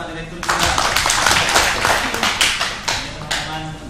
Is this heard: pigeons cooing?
no